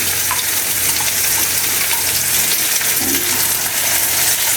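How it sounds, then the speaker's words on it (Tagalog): Beaten egg poured into an open pan of sautéed onion over heat gives a continuous loud sizzle with a watery, bubbling edge, steady throughout with no voices. "Siyempre, ilalagay na natin itong binit nating egg."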